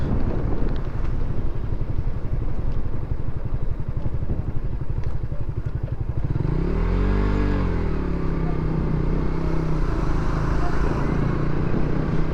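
A motorcycle ridden on an open road in Bangladesh on the way to Dhaka, with a steady, loud engine drone and heavy wind rush on the microphone. The engine pitch sweeps up and down partway through as the rider revs it.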